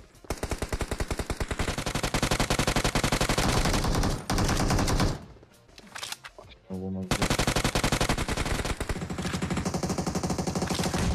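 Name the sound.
gunfire from above in video game PUBG Mobile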